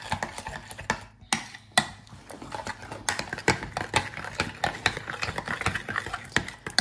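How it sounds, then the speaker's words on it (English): A spoon stirring homemade macaroni salad with ham and pickles in a bowl, giving a steady run of close, quick scraping clicks and knocks against the dish, without talk. "Then we're going to stir it up."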